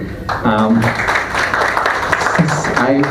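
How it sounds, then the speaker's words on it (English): Former classmates at a class reunion gathering applaud their teachers, a burst of clapping from a modest group in a room, with voices talking over it at the start and end. "A big applause to our teachers who made it today."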